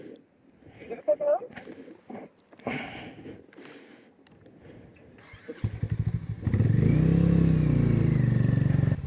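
A motorcycle on a snowy mountain road near Chitkul starts up and revs, its engine rising to a loud steady drone after several people talk and clatter nearby.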